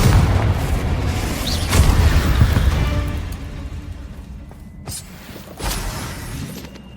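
A Confringo blasting curse goes off in Hogwarts Legacy, a loud booming blast that rumbles and decays over several seconds, followed by a quieter second burst near the end amid game ambience.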